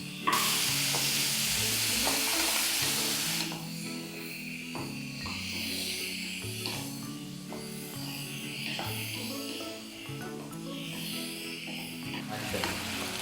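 Tomatoes and salt go into a hot, sizzling pan for mint chutney, with steady frying hiss and stirring scrapes throughout; a loud burst of sizzle at the start settles into a continuous, close crackle.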